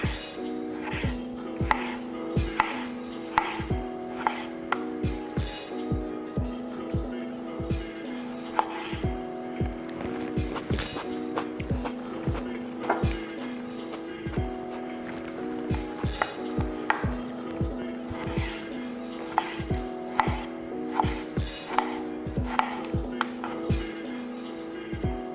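A knife cutting large vegetables on a cutting board, heard as a long run of crisp, evenly paced chops and thuds against the board, with a faint sustained tone running underneath.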